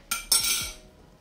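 Two sharp metallic clinks of a utensil against a dish while mixing artichokes with dried basil, quick and close, then fading.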